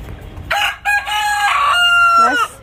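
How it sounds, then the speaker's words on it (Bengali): A rooster in a home garden crows loudly and close by, one long drawn-out cock-a-doodle-doo rising and holding for about two seconds, heard alone with no talk over it. "এদিকেও একটা মোরগ আছে।"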